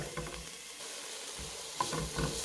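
Garlic sizzles in a pan with softened vegetables for a Bolognese, a steady broadband frying hiss with a few soft stirring scrapes and a brief clink near the end, close and alone without talk.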